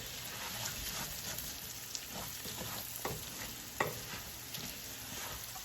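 Onion browning in a frying pan for Mexican rice, a steady close sizzle with scattered stirring clicks and scrapes, no talking.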